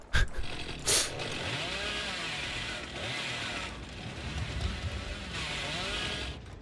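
A chainsaw in the video game Dead by Daylight drones steadily with rising and falling revs, a sharp clatter near the start, fairly faint with no talk.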